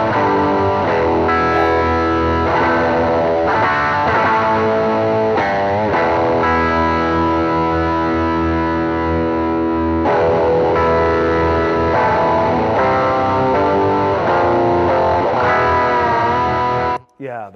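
An electric guitar plays through a Fender distortion pedal with a soft clip stage, giving a thick, saturated, sustained tone with rounded edges over chords and single notes, loud and continuous, ending abruptly.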